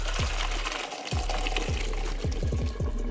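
Pasta water pours and splashes steadily through a strainer, a continuous rushing gush with a few soft knocks and clatters near the start.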